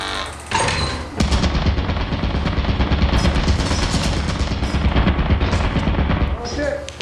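Turrets firing in Lethal Company, a loud, sustained machine-gun stream of rapid shots that starts abruptly and runs for several seconds before cutting off.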